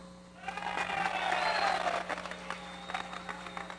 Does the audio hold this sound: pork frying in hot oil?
no